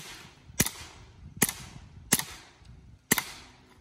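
Four sharp gunshots from a KelTec CP-33 pistol crack out at an uneven pace, each a brief loud report with a short decay.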